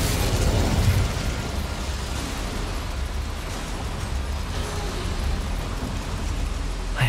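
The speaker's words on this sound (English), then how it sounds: "Incendio should be enough to light these flames." The Incendio spell in Hogwarts Legacy ignites flames with a burst that settles into a steady, rumbling whoosh of fire, held at an even, moderate loudness for several seconds.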